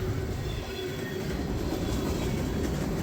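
A freight train hauling trash, petroleum tanks, boxcars and salt hoppers rolls past on the rails with a steady, loud, close rumble and faint wheel clatter throughout.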